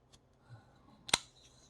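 A Statgear Ausus folding pocket knife with D2 steel blade and micarta handle gives one sharp, close lock click, preceded by faint handling taps.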